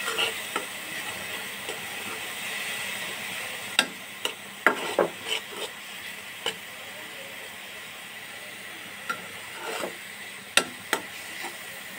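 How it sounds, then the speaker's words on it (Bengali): A blended paste of onion and green chili fries in oil with a steady, close sizzle, punctuated by a dozen scattered sharp taps and scrapes of a spoon against the pan, with no voices. "ব্লেন্ডার করে এখন তেলের মাঝে আমি একটু ভেজে নিচ্ছি।"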